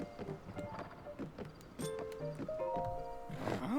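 Horse hooves clip-clop in the video game Zelda: Tears of the Kingdom, a quick uneven patter of steps mixed with game tones and chimes, moderately close and steady throughout.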